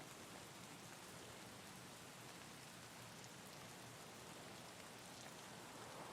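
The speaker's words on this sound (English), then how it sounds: "Rain's helping us a little bit." Steady, dense rain in a video game hisses evenly throughout, a continuous broadband wash with no voices or breaks.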